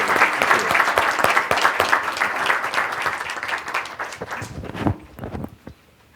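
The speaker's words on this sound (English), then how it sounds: "give a round of applause to our panels and to all of yourselves for participating" A conference audience at an ACT-IAC event applauds its panels, a thick burst of many hands clapping that gradually thins and tapers into scattered last claps.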